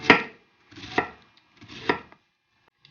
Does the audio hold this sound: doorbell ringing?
no